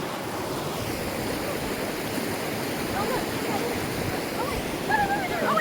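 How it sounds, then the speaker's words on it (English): A waterfall on a campsite hike roars as a steady, broadband rush of falling water, loud and continuous throughout, with faint birdsong chirps near the end. "we did decide to walk up the waterfall. It's very nice."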